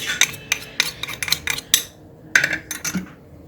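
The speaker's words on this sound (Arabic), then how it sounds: "وهقلبهم مع الدقيق كده" A utensil stirs sugar, yeast, salt, vanilla and baking powder into flour in a bowl for doughnuts, giving a quick series of sharp clinks and scrapes with a brief pause midway.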